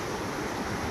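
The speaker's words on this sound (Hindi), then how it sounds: "कल बीसलपुर के 6 गेट खोलने के बाद में आज ज़बरदस्त पानी की आवक, बहुत ही ज़बरदस्त नज़ारा बनास नदी का" Floodwater of the Banas river surging below the Khatka dam after six Bisalpur dam gates were opened, a steady loud roar of rushing water with wind buffeting the microphone throughout.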